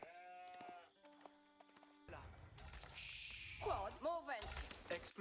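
Sheep bleat in an Age of Empires IV match, several wavering bleats near the end following game chimes and tones, with a voice speaking over parts.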